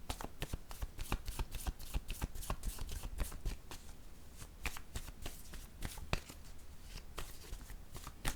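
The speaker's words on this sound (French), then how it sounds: "Je vais déposer une carte ici." Tarot cards being handled and set down on a table, with a steady run of soft, quick flicks and light slaps close by, alone with no talk.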